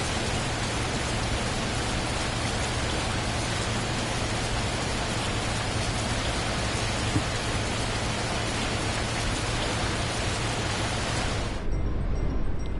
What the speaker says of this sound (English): So that rain's persisting